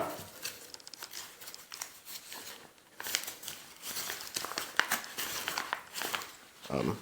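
Scissors cutting down the sides of a paper envelope during a militaria unboxing: close, soft crinkling and snipping with brief rustles, continuing in irregular bursts.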